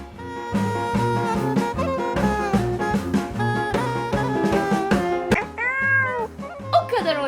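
Repeated drawn-out meows with a rising and falling pitch, sounding close and loud, a few of them bending sharply near the end.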